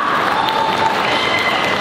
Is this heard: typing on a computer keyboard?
no